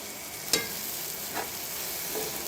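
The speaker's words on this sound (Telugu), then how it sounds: "మనకి ఫ్రై మనం తినేటట్టు చేసుకుంటే టేస్టీగా ఉంటుంది ఫ్రై అవుతుందండి" Fish shallow-fries in a pan with a quiet, steady sizzling hiss, punctuated by a few faint crackles or stirring taps over a short stretch.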